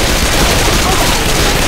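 Dense, continuous gunfire from the Left 4 Dead 2 video game, a loud, unbroken barrage of rapid shots filling the whole moment.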